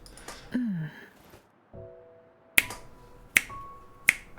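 Finger snaps from someone struggling to snap again after years, producing three sharp, close clicks spaced about a second apart after a few softer fumbling sounds and a brief vocal noise.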